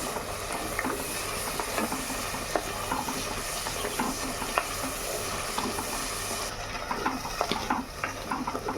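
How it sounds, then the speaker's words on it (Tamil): Ground masala paste sautés in oil for a fish curry with a continuous crackling sizzle and occasional stirring scrapes, then turns somewhat quieter and duller toward the end. "மசாலா நல்லா எண்ணெய் திரிஞ்சு வதங்கிட்டுருக்கு."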